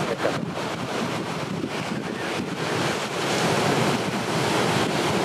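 Outdoor location recording at a carnival shoot, with wind buffeting the microphone over continuous rushing water like waves or surf, fairly loud and steady throughout, with no voices.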